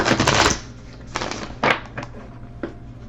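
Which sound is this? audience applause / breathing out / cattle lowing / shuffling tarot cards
shuffling tarot cards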